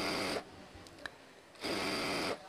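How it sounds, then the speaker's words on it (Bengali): Sewing machine stitching an elastic casing on a dhoti salwar, two bursts of steady mechanical whirring close up, separated by a short pause. "এইভাবে একটা করে সেলাই দিয়ে আমরা বসিয়ে যাব"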